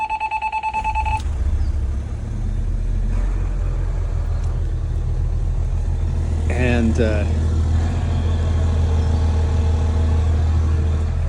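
The diesel engine of a 2000 Monaco Diplomat bus starts after an alarm beep and settles into a steady low rumble at idle, with a brief chirp partway through and a voice speaking at the start.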